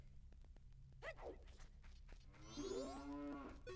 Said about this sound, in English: The secret of the mooing cow.